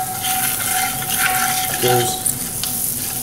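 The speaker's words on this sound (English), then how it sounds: "I'm going to go ahead and melt this butter down" Butter melting and sizzling in a pan while sirloin, onions and mushrooms are being cooked, a constant close crackling hiss with light stirring scrapes, a faint tone, and a brief spoken word.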